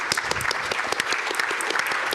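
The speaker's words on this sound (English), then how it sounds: "We should do a round of applause for Blockstream." A conference audience at a Bitcoin event in Dallas applauds Blockstream, a brisk, dense patter of many hands clapping at once, steady and moderately loud from start to finish.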